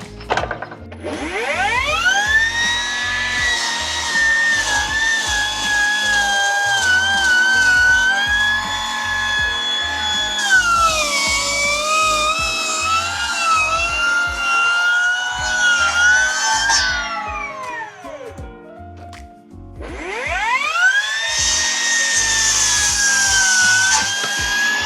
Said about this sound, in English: Let me see what you can do with a plunge cut with that thing.